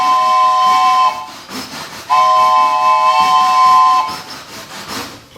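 Foley steam train whistle for a live radio play, sounding two long, loud chord-like blasts with hiss between them, following a train bell and chugging effect.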